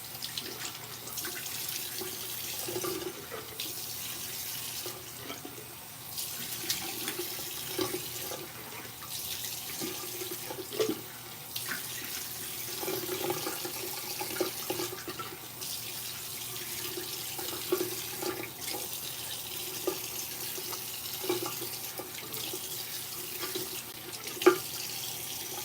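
Warm water running from a bathroom tap into a sink during a face rinse, a soft continuous flow with small splashes and shifting gurgles, fairly quiet and close, with no talking.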